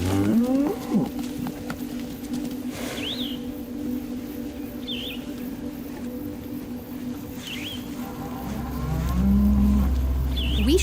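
Cattle on a farm low with a long, deep moo near the start and another toward the end, while birds chirp faintly in between over a steady outdoor hum.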